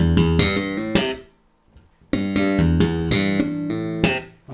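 A slap bass lick on an electric bass, with cross hammer-ons and quick repeated notes in two short bursts split by a brief near-silent gap, played close and clear.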